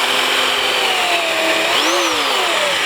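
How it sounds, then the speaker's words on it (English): A power drill bores through plastic, mesh and sailcloth on a board, whining loud and close in a steady high drone whose pitch dips and rises as the bit bites through the layers. "drill down through not only the plastic but also the mesh, and then the sail"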